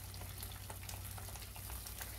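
Cashew gravy for matar mushroom frying in a pan, a faint, even sizzle with light bubbling and scattered soft ticks, low in level and with no voices.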